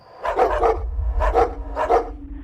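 A dog barks in three quick clusters of two or three sharp barks each, close and loud, over a low rumbling background like a truck cab at night.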